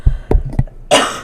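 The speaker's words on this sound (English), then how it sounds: "I know I'm coughing on my own breath." A few short, sharp coughs close up, followed by a longer rough, breathy cough.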